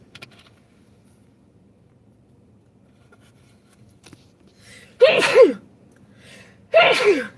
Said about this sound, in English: I don't know why I sneeze all the time.